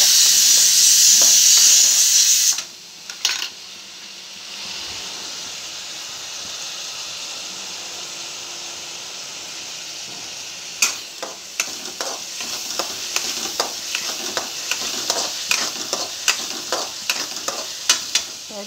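Spicy eggplant masala being roasted and stirred in a pan, a steady sizzle and hiss at first, then a quieter pause followed by repeated scraping and clattering spoon strokes against the pan.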